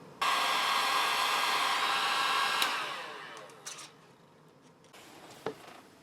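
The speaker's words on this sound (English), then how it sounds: "I'm going to put heat shrink on all 6 of these for the project." A heat gun blows loudly and steadily for a couple of seconds while shrinking heat shrink tubing on wire leads, then cuts off and winds down, followed by faint clicks and light handling sounds.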